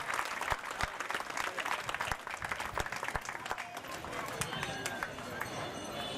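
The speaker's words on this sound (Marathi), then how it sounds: "कर्तृत्ववान आमदाराचं जोरदार टाळ्या वाजवून सहर्ष स्वागत करावं" Women clap together to welcome an MLA at a temple silver jubilee event in Neelam Nagar, sustained dense applause from a crowd, fairly near and steady, with some background voices underneath.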